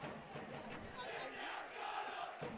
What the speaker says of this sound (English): The crowd starting to get fired up on the DeSmet side